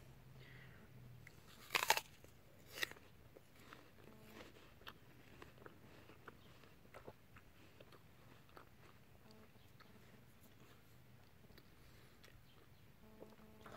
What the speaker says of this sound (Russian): Ну, сейчас откусим.